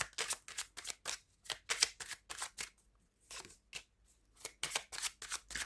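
Tarot cards are handled and drawn from a deck close by, giving a run of crisp, papery snaps and flicks in an uneven rhythm with brief pauses between them.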